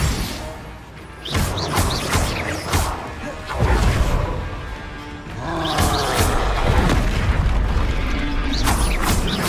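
Spell explosions in the Hogwarts Legacy video game, with booming blasts, whooshes and crashing debris in a dense, loud stretch of game combat noise.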